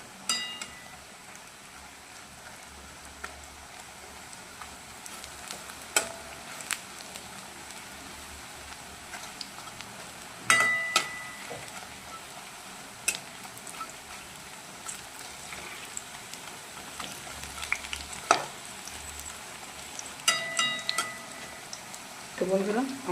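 Onion pakoras (peyaji) frying in hot oil, a soft steady sizzle and bubbling with scattered crackles and pops, faint and continuous throughout.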